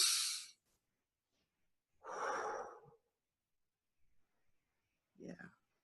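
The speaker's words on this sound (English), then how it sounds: "a big deep breath this time" A person takes a big deep breath during a guided relaxation, a soft breathy inhale and exhale, close and quiet, with short pauses between the breaths.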